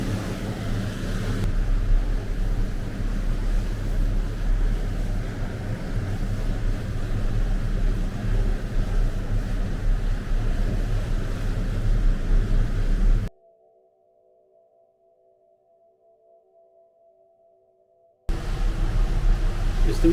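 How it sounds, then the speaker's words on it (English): Strong storm wind, gusting at 80 miles an hour, roars over a rough sea with crashing waves in a steady loud rumble, broken by a brief gap of near silence before the roar returns. "It's the middle of a storm, 80-mile-an-hour winds"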